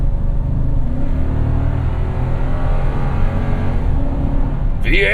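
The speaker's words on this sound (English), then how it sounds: "V8!" A 2017 Toyota Tundra SR5 4x4 TRD Off Road V8 revs steadily from inside the cab, a loud, continuous deep engine drone with rising harmonics that holds for about five seconds, with a brief voice at the end.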